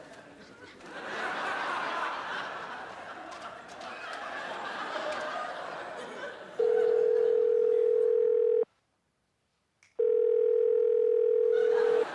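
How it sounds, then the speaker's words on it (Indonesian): An office telephone gives a steady electronic tone. It starts after background chatter and laughter, cuts out briefly, then resumes loud and close. "Sasha, biar saya yang angkat telepon itu"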